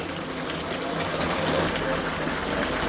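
Chicken pieces simmer in their own released juices in a covered pan, giving a steady, soft bubbling hiss that stays even throughout.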